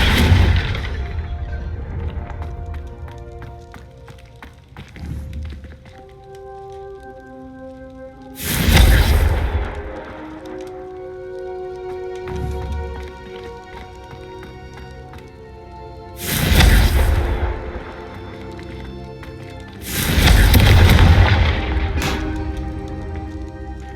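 Confringo fire-spell blasts in the Hogwarts Legacy video game, three heavy booming explosions spaced several seconds apart, each bursting loud over a soft musical score that carries between them.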